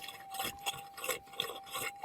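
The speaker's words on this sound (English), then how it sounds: "so we'll give it a scrape" Close rasping scrape of a tool dragged across dirt and gravel while gold prospecting, several uneven strokes over a steady high metal-detector tone.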